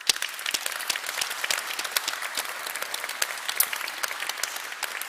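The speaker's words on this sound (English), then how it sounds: "May I have a big applause for them." Conference audience applauding sponsors at an international organic farming event, with steady dense clapping from a large crowd lasting throughout and no talk over it.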